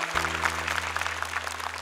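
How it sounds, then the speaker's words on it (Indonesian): An audience applauds after a young contestant's Quran memorization test on a televised hafiz competition, with steady, even clapping over a low continuous hum. "Luar biasa, tepuk tangan"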